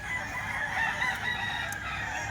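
A white-legged bullet gold gamefowl rooster crows loudly and nearby in one long sustained call, with faint background clucking and no talk.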